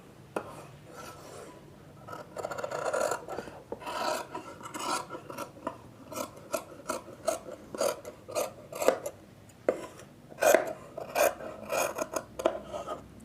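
Scissors cut through blouse fabric on a tabletop, heard as a run of close rasping snips and rubbing strokes that grow busier and more irregular toward the end, with no voices.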